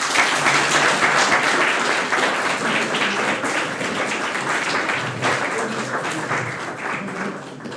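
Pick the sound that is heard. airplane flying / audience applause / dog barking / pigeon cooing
audience applause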